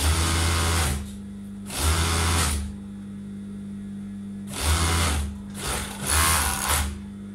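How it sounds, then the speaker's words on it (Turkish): An overlock sewing machine stitches a slit in fabric in several loud, whirring bursts of about a second each, separated by short pauses with a steady background hum. "Şu şekilde tutuyorum ve overlock'umuzu dikiyorum."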